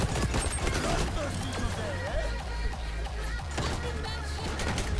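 Steady gunfire from an online shooter match in XDefiant, continuous shots mixed into busy game sound and music, with a voice talking over it.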